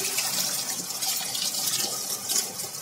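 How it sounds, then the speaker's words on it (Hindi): Cold tap water pours into a pot of freshly boiled eggs in a home kitchen, a steady gushing splash running continuously at close range with no talking. "अब मैं इसमें थोड़ा सा ठंडा पानी ऐड करूंगी"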